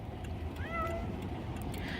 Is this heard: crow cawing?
no